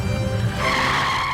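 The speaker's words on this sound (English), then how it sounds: "let's get in the car and drive away" A cartoon car in the Looney Tunes game Bugs and Daffy's Thanksgiving Road Trip pulls away with a loud, close tire skid that squeals and then fades into engine noise.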